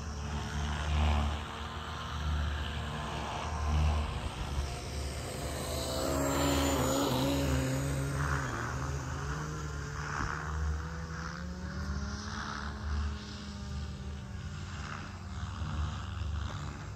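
An RC model jet makes a low pass over an airfield with a sustained whining engine roar that rises and shifts in pitch as it sweeps by, fairly loud against steady outdoor background noise.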